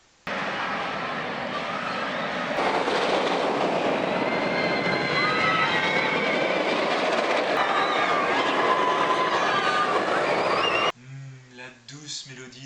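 A roller coaster train on nylon wheels runs along square-spine B&M rails, roaring with a loud rumbling rattle and rising squeals, then fades as a voice begins talking.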